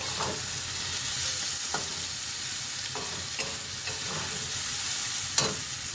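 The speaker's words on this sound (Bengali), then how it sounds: "একবারে কিন্তু খুব লাল লাল করে ভাজবো না।" Pointed gourd and peanuts frying in a pan give a continuous close sizzle, with several sharp scrapes of stirring scattered through it and no voices.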